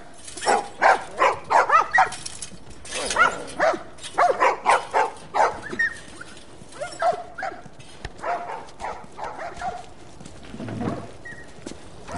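Dogs bark repeatedly in The Last of Us Remastered, with a run of loud, rhythmic barks that grow sparser and quieter, followed by a whimper near the end.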